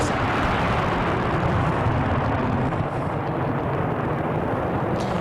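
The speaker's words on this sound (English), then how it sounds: "this is video from one of the major explosions" Aftermath rumble of a major blast at a fireworks facility, a dense, loud, steady roar filling the clip without a break or distinct individual bang.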